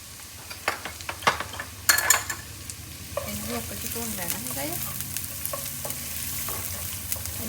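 Finely chopped medium onion frying and being stirred in a pot, a steady close sizzle with scraping spoon strokes and clinks over it, briefly louder after the first couple of seconds.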